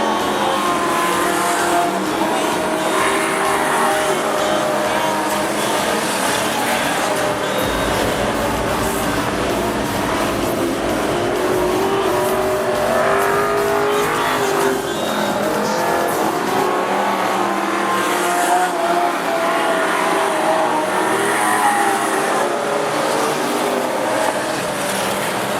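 Race cars roar continuously around a dirt speedway at an AMCA meeting in Rockhampton, loud engines swelling and fading as the cars pass in a steady stream.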